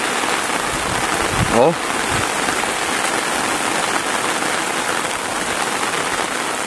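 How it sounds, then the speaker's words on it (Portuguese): Steady heavy rain pours across open backcountry in the Bahia sertão in late afternoon, a dense unbroken hiss throughout, with a brief spoken word partway through. "Aí tá chovendo."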